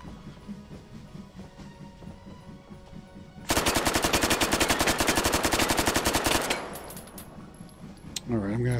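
A loud, rapid full-auto burst in the VR shooter Hot Dogs, Horseshoes & Hand Grenades lasts about three seconds of evenly spaced shots, then quieter game sounds follow.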